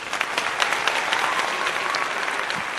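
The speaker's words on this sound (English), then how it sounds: "I clapped too late" A live podcast audience bursts into dense, sustained applause, many hands clapping together at a steady, fairly loud level with no pauses.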